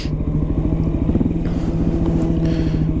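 A Triumph motorcycle with a 19-inch front wheel rumbles past on a New York City street, its engine giving a loud, close, steady throbbing drone with some clatter over street noise.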